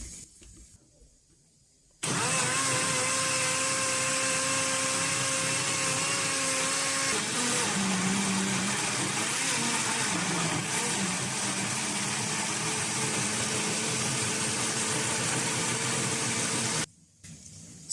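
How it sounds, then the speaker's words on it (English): A kitchen blender whirs loudly and steadily for about fifteen seconds, blending pepper and tomato with a little water, its motor pitch shifting partway through as the contents churn, then stopping abruptly. "this is my pepper and tomato. I've added a little bit of water. I'm going to go and blend."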